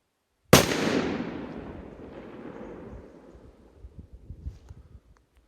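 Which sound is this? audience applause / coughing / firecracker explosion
firecracker explosion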